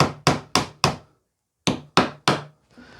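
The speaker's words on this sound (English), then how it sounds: "I would advise that you get your hammer" Hammer tapping nails back through wooden floor slats: four sharp, evenly spaced strikes, a short pause, then three more, loud and close with no talk.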